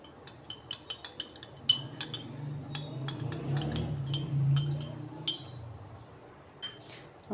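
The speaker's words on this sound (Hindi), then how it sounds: "और इसे अच्छी तरह मिक्स कर देंगे।" Sauces for chicken jalfrezi (chili sauce, ketchup and black pepper) are stirred in a pan: a spoon clinks lightly against the metal with soft, scattered taps over a low stove hum, quiet and close.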